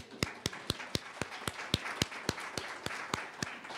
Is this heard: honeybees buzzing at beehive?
no